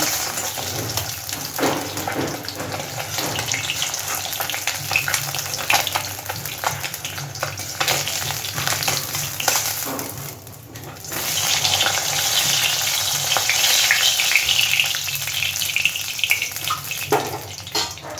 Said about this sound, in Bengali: একইভাবে বাকি মাছগুলো আমি ভেজে নেব